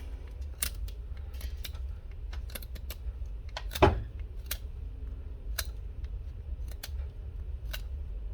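Pencil graphite rubbed onto the lock of a folding knife, such as a frame, liner or compression lock: faint, scattered scratchy clicks and ticks with one louder scrape near the middle, close up in a quiet room.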